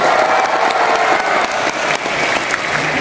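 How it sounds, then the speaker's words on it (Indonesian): Audience applause at a farewell video awards ceremony, a loud continuous clapping of many hands with a hint of crowd noise, sustained for about three seconds. "Semuanya tepuk tangan."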